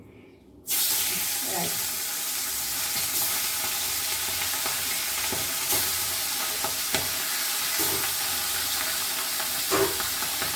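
Pabda fish dropped into hot oil in a pan on high heat set off a sudden, loud, steady sizzle that carries on throughout, with a few soft clinks and spatters, and no talking.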